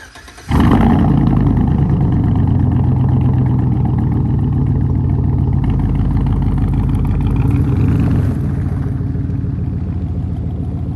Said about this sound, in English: If you hear some noise, it's the two heaters.